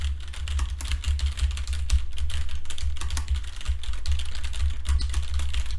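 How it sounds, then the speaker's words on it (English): Rapid, continuous clicking of a computer keyboard being typed on close to a USB microphone, with a steady low hum underneath and no speech. "when you throw some typing into the mix, this is what you can expect"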